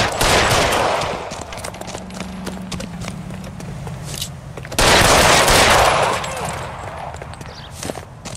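Gunfire as a man is shot: loud bursts of rapid shots at the start and again midway, each with a rough, ringing tail, with voices and hoof-like clatter in between.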